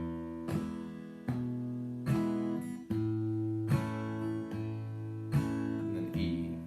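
Acoustic guitar strummed in steady chord changes, with single bass notes alternating between strums, played alone and close.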